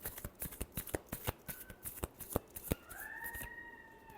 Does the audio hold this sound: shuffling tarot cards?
yes